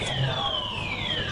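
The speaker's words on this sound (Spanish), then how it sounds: "la alarma." A building emergency alarm sounds steadily in the background, a continuous electronic tone with gliding pitch, while a multilingual recorded announcement plays over it.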